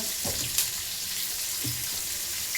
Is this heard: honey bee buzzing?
no